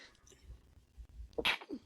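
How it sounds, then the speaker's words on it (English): A single sharp sneeze bursts out near the end after a quiet breath, close and fairly loud. "You gonna sneeze on the podcast, bro?"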